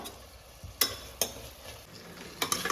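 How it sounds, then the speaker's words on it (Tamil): Ginger and garlic sautéing in a pan, a soft low sizzle broken by several sharp metallic clinks of a spoon stirring against the pan, with no talking. "இஞ்சி பூண்டு நல்லா வாசம் போகிற அளவுக்கு நல்லா வதங்கட்டும்"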